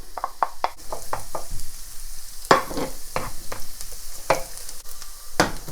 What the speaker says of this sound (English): Garlic goes in.